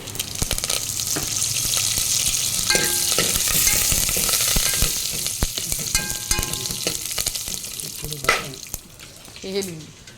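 Chillies, cumin and curry leaves sizzle steadily in hot oil as tempering for pepper rasam, a continuous loud frying hiss with occasional clinks and stirring, while voices speak briefly in the background.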